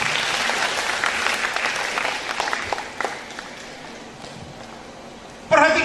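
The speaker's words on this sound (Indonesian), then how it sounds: "Tepuk tangan dulu buat Tuhan Yesus." A church seminar audience applauds for several seconds in a dense, even wash of clapping that gradually thins out, ending with a brief louder burst.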